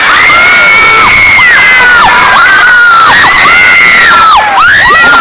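A mall show audience screams in loud, shrill waves, the mostly high-pitched crowd cries swelling and falling repeatedly without a break across the whole stretch.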